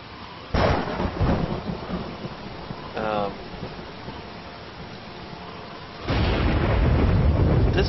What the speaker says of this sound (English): This is quite the storm.